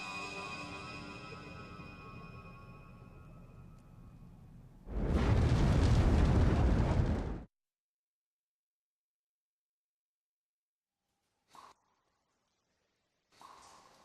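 A house burning in the video game Star Ocean The Last Hope: a loud, rushing roar of flames bursts in over soft background music for about two seconds, then cuts to silence broken by a couple of faint, brief clicks.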